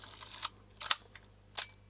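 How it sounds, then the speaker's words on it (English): A Kodak Retina IIIc camera shutter, newly installed, fires three times, each a crisp, close mechanical click separated by short pauses in a quiet room. "we can fire the shutter as it works"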